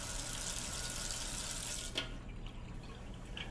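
Water runs steadily from a tap in a constant, hissing stream for about two seconds, then is shut off, leaving faint drips and quiet room sound.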